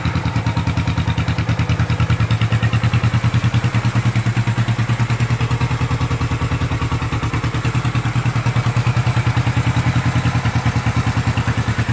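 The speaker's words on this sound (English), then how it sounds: "Honda CB450 K5, 1972." A 1972 Honda CB450 K5 motorcycle idles nearby with a loud, steady, even pulsing beat and light mechanical clatter throughout.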